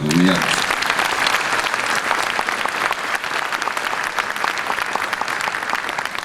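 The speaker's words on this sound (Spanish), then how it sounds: "Pido un aplauso para ella." An audience at the 46th Buenos Aires International Book Fair applauds an author during a book launch, producing dense, sustained clapping from a sizable seated crowd for about six seconds, with a voice heard briefly at the start.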